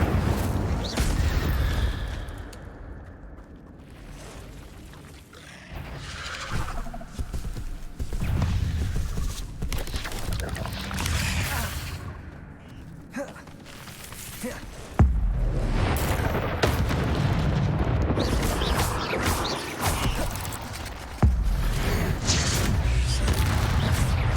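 Incendio fire spells are cast repeatedly in Hogwarts Legacy during a chaotic battle, each producing a whooshing burst and booming impacts layered over a dense, loud swirl of combat effects and magical blasts.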